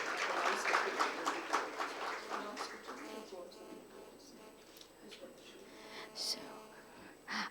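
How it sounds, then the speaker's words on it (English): Audience applause at an international life sciences conference award ceremony, dense clapping at first that thins and fades over several seconds, with scattered claps and faint murmuring later. "And please may we have Dr. Hamad on stage too, in a round of applause."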